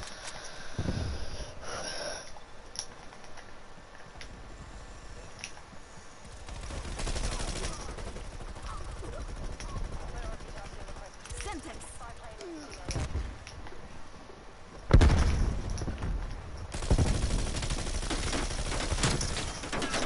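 Rapid bursts from a Bullfrog submachine gun in Call of Duty Cold War, loud broken volleys stopping and starting throughout, mixed with game noise and occasional talk.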